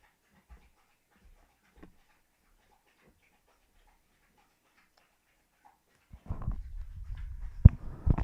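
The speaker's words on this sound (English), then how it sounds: "it's my sister's dog." A dog pants heavily and noisily up close for the last couple of seconds after a near-silent stretch, with faint whimpering mixed in.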